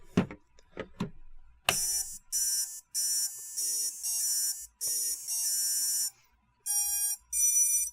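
A few soft taps, then a series of shrill electronic custom startup beeps from an HGLRC Arrow 3 drone's BLHeli_32 ESCs in a tune-like pattern of short and long tones, loud and close.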